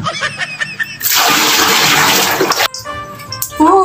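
Water gushes and splashes loudly and continuously for a couple of seconds during a bath at home, framed by shorter splashes and small knocks before and after.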